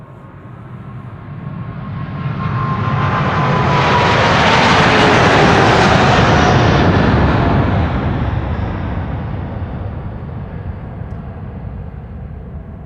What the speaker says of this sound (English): We're watching Schiphol with the noise of Sydney 34 Lima departures behind me.